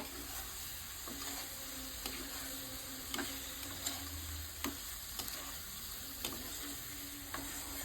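Four potato pieces being stir-fried with spices in oil for a country chicken curry, a faint steady sizzle with light, evenly spaced scraping and tapping of a spatula against the pan, no talking.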